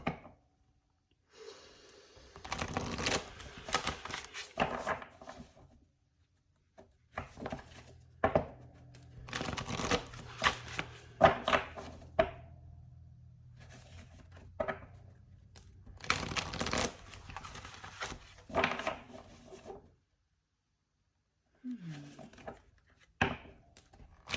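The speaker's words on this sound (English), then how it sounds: "I'm going to take a second to get a good shuffle on them" Tarot cards are shuffled by hand in several bursts of rapid riffling and soft slapping, separated by quiet pauses, close up and with no speech.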